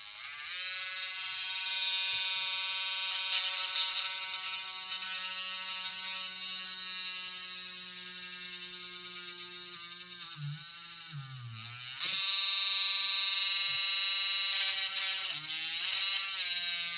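A Dremel rotary tool whines steadily at high speed while boring into a metal exhaust pipe, pitch sagging under load and briefly bogging before jumping back up louder, a continuous close-up buzz with no talk.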